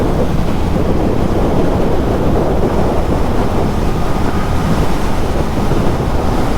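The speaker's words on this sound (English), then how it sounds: "it's been windy today, and there's a lot of crosswind there" Loud, steady roaring wind buffets the microphone while riding a 2022 Triumph Speed Twin motorcycle through gusty crosswinds, a dense continuous rush that drowns out everything else.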